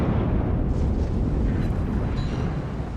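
Warship guns firing shells in the naval combat game World of Warships, a loud sustained rumbling boom with a dense low roar that rolls on for the whole moment and eases slightly at the end, no voices.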